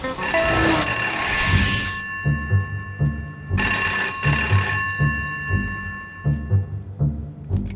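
Old-style telephone bell ringing loud and close in two long bursts, each followed by a rhythmic series of low clunking pulses.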